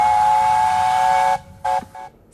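A heritage steam locomotive whistle in the UK sounds one long, loud, steady blast, followed by two short toots.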